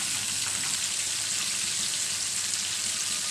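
Fish fries in hot oil in a pan after being turned to its second side: a steady, even sizzle and crackle holds throughout at moderate level, with no voices over it.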